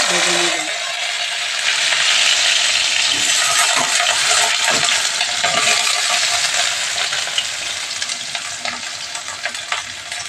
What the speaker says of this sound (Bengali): তেল গরম হয়ে গেছে, এখন আমি করলাগুলো ভেজে নেব।